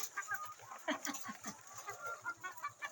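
Chickens eating cluck close by in quick, repeated bursts, their short, choppy calls overlapping at a steady pace with no one talking.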